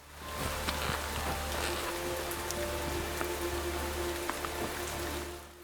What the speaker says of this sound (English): A heavy rain shower is at once welcome and at the same time a pain in the